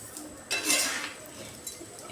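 Grated coconut and sugar mixture for coconut naru stirred in a pan, a spatula scraping with a couple of short metallic clinks, close and fairly quiet, no talk.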